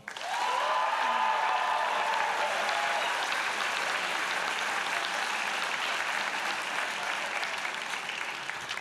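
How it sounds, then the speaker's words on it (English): Graduation convocation audience in a theater applauding with cheers, a long, even roar of clapping from a large crowd, with a brief whoop near the start and steady intensity to the end. "a very loud cheer"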